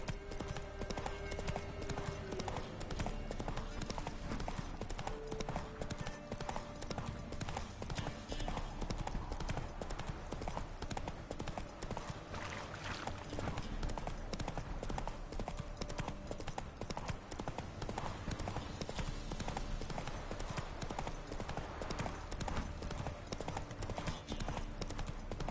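Roach, a horse in The Witcher 3, gallops on and on, dense rapid hoofbeats that stay loud and steady throughout, with faint voices mixed in now and then.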